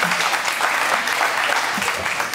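A crowd applauds at the 2024 State of the Yuba event, producing a continuous, full wash of many hands clapping at an even loudness, with faint voices mixed in.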